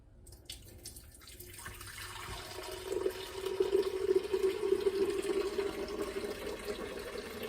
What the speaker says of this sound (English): So I'm going to first add the broth.